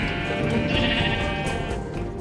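Sheep bleat in a Minecraft-style game while a pen of animals is tended, a steady layered bleating that holds loud and close for the full stretch without any talk.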